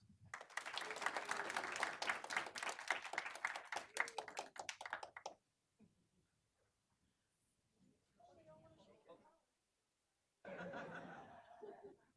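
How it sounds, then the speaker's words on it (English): A short burst of audience applause at a school board regular meeting for an award recipient, with crisp individual claps for about five seconds that then die away, followed by quiet murmurs and some soft laughter and talk. "please give her a round of applause"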